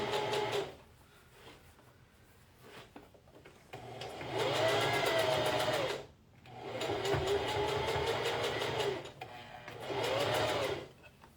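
A sewing machine topstitches a garment a quarter inch from the edge, running in three long steady bursts of rapid needle chatter with quiet pauses between, close and loud, with no talking.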